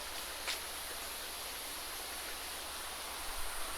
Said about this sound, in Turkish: suyun sesini duyuyorsunuzdur